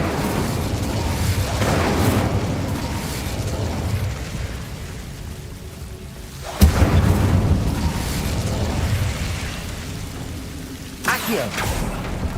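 Incendio spell blasts in Hogwarts Legacy: booming, fiery bursts, with a sharp loud blast midway and another near the end over a rumbling background.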